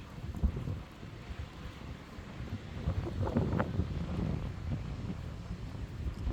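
Outdoor wind on a walk through a scenic area abroad under open sky: a steady low rushing and buffeting against the microphone that swells in the middle, with no voices.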